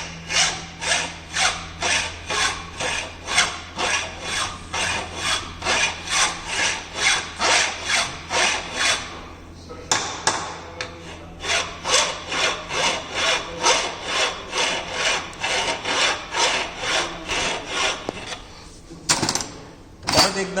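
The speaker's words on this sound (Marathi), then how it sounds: "तर फायलिंगची प्रोसेस ही अशा पद्धतीने करायची." Hand file worked over a metal workpiece in a fitting shop: long rhythmic rasping strokes, about two per second, close and loud, with a brief pause midway and then a fresh run of strokes.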